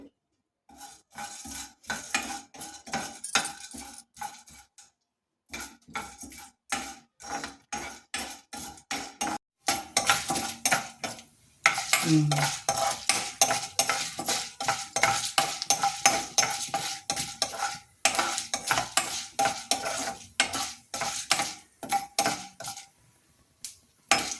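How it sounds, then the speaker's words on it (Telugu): Urad dal and mustard seeds frying in a pan, stirred with a metal spoon in rapid repeated scrapes and clinks over a steady sizzle, close and fairly loud with brief pauses. "కొంచెం మినపప్పు, కొంచెం ఆవాలు వేసి వేయించాలి."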